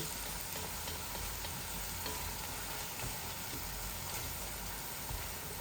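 Meat for a bhuna fries in a modest amount of oil in a pan, a faint, even, continuous sizzle with no voices over it.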